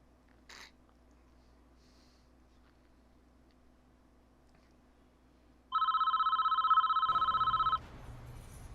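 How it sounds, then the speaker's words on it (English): A telephone rings once in the prison-management video game Prison Architect. The ring is a short, steady electronic trill that plays for about two seconds over a quiet background, and a louder burst of game noise follows it. "Phone call."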